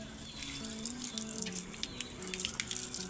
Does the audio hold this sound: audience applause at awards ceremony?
no